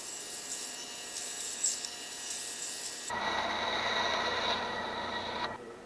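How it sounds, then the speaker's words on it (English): A bandsaw cuts the faces off a wooden cube: a faint mechanical hum first, then a louder, steady blade whir that holds for a few seconds before dropping off. "I turned on the bandsaw and then I just cut the faces off just like you would expect."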